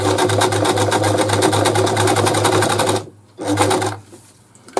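A Brother Boutique 30 sewing machine works a blind stitch, a loud close motor whir with a steady hum that runs continuously, stops abruptly, briefly restarts, then falls quiet.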